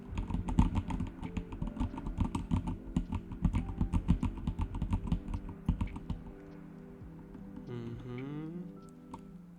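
Rapid bursts of keystrokes on a computer keyboard as login credentials are entered, close and clicky for several seconds, then the typing stops and a faint electronic whine and sweep take over.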